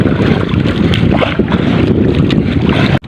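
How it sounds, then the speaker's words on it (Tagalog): Strong easterly wind roaring steadily across open water off Mariveles, Bataan, a dense continuous rush with buffeting against the microphone and a fishing boat's churn beneath, no voices. "So malakas si hangin sa latan o si easterlies."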